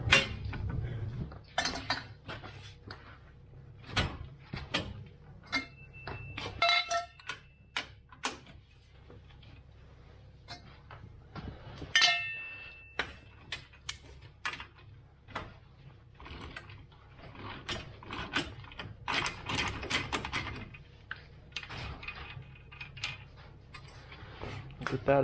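A socket wrench ratchets on an ATV wheel hub nut in a workshop, producing faint, intermittent clicking bursts mixed with metallic clinks and handling noises.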